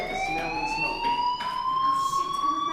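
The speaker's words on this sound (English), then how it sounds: "Hey, do you hear that fire alarm?" A school fire alarm in the video game Life Is Strange sounds as a steady, shrill electronic tone with a pulsing undertone, continuous and fairly loud with no talking.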